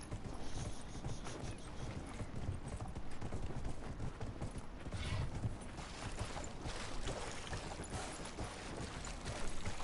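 Horse hooves clip-clop steadily in Dragon Age: Inquisition as a character rides, a continuous, moderately loud rhythmic clatter of hoofbeats with faint mechanical game sounds beneath.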